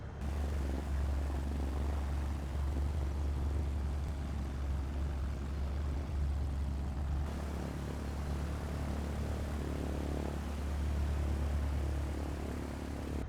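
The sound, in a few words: aircraft taxiing in video game Microsoft Flight Simulator 2024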